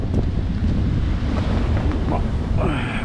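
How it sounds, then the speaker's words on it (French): Strong wind roars steadily across the microphone while sailing at sea between Elba and Corsica, with broadband rushing noise and water swirling against the hull throughout. "Oui, bonne accélération du vent."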